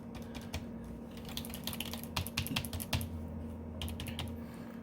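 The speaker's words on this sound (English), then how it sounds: "see if we can type something" Someone types on a computer keyboard plugged into a PC under repair, producing a steady run of close, crisp key clicks with brief pauses and a faint constant electrical hum beneath.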